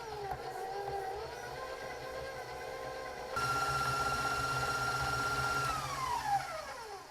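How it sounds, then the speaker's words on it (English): An electric stand mixer creaming butter and caster sugar at medium-high speed, a steady motor whine with a mechanical hum that steps up in pitch partway through and then winds down near the end. "I'm going to set the mixer on medium-high speed, and I'm going to cream this together for about 5 minutes"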